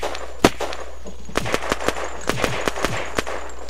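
Gunfire in the online shooter game Unturned, played on the Arena map: one loud shot, then a rapid string of about ten sharp reports at an uneven rhythm, close and dry over a steady low hum, with no talking.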